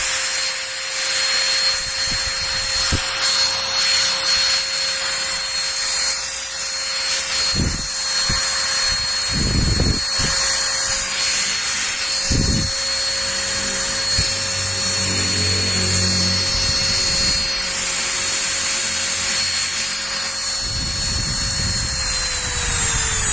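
A Kleiten mini die grinder runs at maximum speed with a loud, steady high-pitched whine for over twenty seconds, with occasional thumps and handling knocks under the constant tone; no talking.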